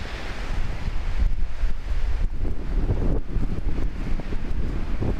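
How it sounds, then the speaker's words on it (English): Strong wind gusting by the shore of Lake Superior near Split Rock Lighthouse, roaring loudly across the microphone with surf-like rushing and buffeting bursts throughout. "The wind should be a little ferocious."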